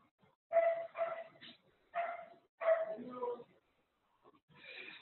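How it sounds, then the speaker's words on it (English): Dogs bark in several separate bursts, a few sharp yaps grouped together with short pauses between, moderately close and clear against an otherwise quiet background. "I can still hear the dogs barking"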